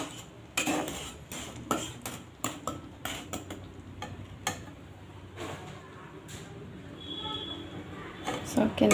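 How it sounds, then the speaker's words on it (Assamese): A sesame laddu mixture stirred in a pan, with irregular knocks, clinks and scrapes of a utensil against the metal coming in quick bursts over a quiet background, closest and busiest toward the end. "সেইটো কাৰণে মই এইখিনি এনেকৈ লৰাই আছোঁ"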